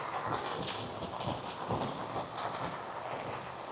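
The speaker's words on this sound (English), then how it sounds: "This is about the third heavy rain we've had today" Heavy rain falls in a steady, even hiss with a faint low rumble underneath. It is the third downpour of the day, coming after a hot dry spell. No one speaks.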